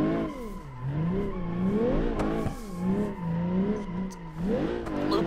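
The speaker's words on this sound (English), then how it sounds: "Gotta peek that boost, get that wheel spin again" Engine revving and wheel spin from a car drifting in the BeamNG video game, with a rising and falling motor pitch in repeated surges and tire noise, no talk.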